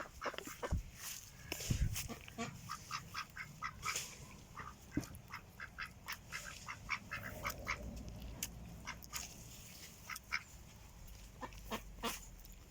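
Ducks quack repeatedly in a busy, overlapping chorus in a village garden, fairly distant, with scattered calls continuing throughout.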